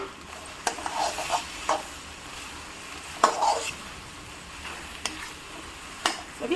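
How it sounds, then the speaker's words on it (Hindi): Fried elephant foot yam pieces sizzle and fry steadily in a pan of spices while a utensil scrapes and stirs with occasional clinks, close by. "चलिए अब हम डाल देंगे जो सूरन के पीस हमने तल के रखे हैं, तो उनको भी मसाला में मिला लेते हैं।"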